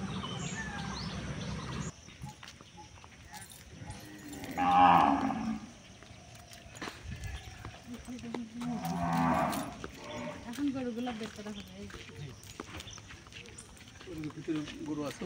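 Cattle at a government dairy farm in Rajshahi moo in two long, loud calls a few seconds apart, with quieter lowing and faint bird chirps around them while a person talks nearby.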